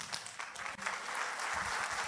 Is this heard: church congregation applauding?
yes